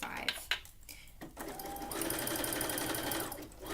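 A sewing machine runs a zigzag stitch along elastic in a tankini swimsuit, a steady close whir after a few clicks and handling noises, with a voice speaking over it.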